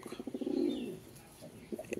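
Soft, low pigeon coos rise and fade once, fairly close, followed by quieter background rustle and a faint sharper sound at the end.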